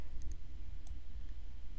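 A few quiet, sharp computer mouse clicks sound at the start and near the middle over a low room hum while working in Adobe Illustrator.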